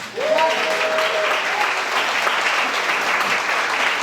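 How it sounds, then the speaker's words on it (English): A large room full of people applauds themselves, a loud steady wash of many clapping hands starting abruptly and holding evenly, with a short whistle-like tone near the beginning. "round of applause for yourselves"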